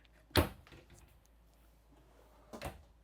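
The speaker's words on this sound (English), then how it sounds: "Pull out drawers here." A sharp sliding thud as a drawer is pulled open in a 2024 Grand Design Imagine 2500RL travel trailer, followed by a quieter rattle, then a second softer knock near the end.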